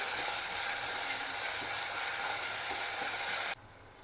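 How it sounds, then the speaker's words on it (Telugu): A spoonful of ginger garlic paste fries in a pan with a steady sizzling hiss and faint stirring, then cuts off abruptly near the end. "ఒక స్పూన్ అల్లం వెల్లుల్లి పేస్ట్ వేసుకున్నాము అల్లం వెల్లుల్లి పేస్ట్ పచ్చివాసన పోయేంతవరకు వేపుకోవాలి"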